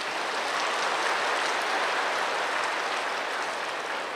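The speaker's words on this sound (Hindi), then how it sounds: "हाँ, बजा लो ताली अपने लिए" An audience claps for itself at a spiritual talk, a dense, steady wash of many hands held at full strength for about four seconds with no voice over it.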